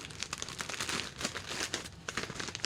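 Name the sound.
filament package put into a mailing envelope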